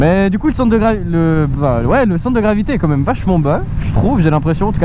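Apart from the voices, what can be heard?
No everyday noise stands out behind the speech.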